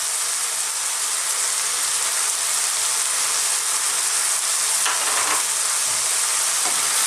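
Beef, green beans and celery stir-fried with salt and black pepper in a pan over high heat give a loud, steady, close sizzle with hissing that runs unbroken throughout, with no talking.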